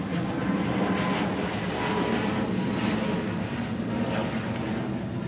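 F-15 fighter jets at the Sentry Aloha exercise in Hawaii fill the air with a continuous, loud, broadband engine roar that holds steady throughout, with no talking.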